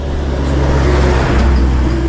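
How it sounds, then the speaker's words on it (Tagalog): A car passes by on the road nearby, a loud, steady engine rumble and road noise that swells slightly mid-way before easing. "Uy, may sasakyan ho."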